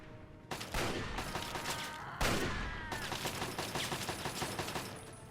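Sustained automatic turret gunfire in Fallout 3, dense rapid bursts filling the whole stretch, loud and close with a sharp fresh volley partway through and no talking.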